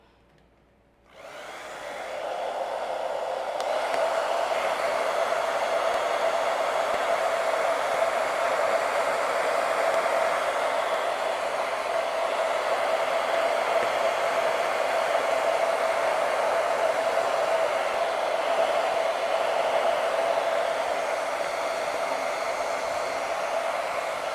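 Hair dryer blowing on a custom invisible hairline wig installation, switching on after a moment of quiet and then running as a steady, close whoosh with a constant whine for the rest of the stretch.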